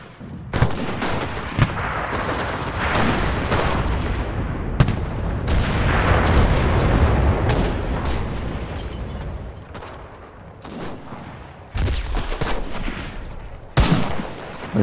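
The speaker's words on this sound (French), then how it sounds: "leur giga mitrailleuse, comme dit le nom, elle nous mitraille quoi" Machine-gun fire in the online shooter Enlisted, a heavy bunker machine gun raking the area: dense, loud, continuous gunfire and explosions that blur into a roaring barrage with sharp reports on top.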